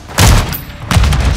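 Grenade explosion in Call of Duty Modern Warfare III multiplayer on the Sub Base map, two loud booming blasts about a second apart with a heavy low rumble, mixed into ongoing game noise.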